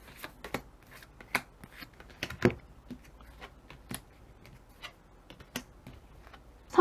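Tarot cards are shuffled and drawn by hand at close range: scattered soft flicks, riffles and sharp snaps of card stock in a quiet room, with no talking.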